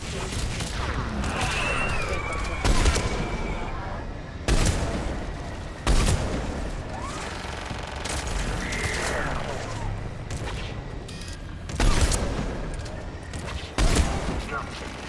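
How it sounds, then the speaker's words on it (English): Missile launcher fire in the Mass Effect 3 video game sounds as repeated loud booming launches and explosions at irregular intervals over continuous battle noise, with game voices and effects underneath. "Missiles are hot."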